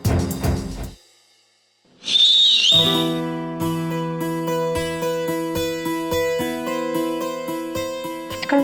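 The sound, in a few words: whistling sound effect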